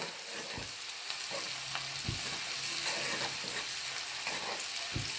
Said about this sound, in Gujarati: આવી રીતે બરાબર લસણ અને મરચાંને સાંતળી લેવાનું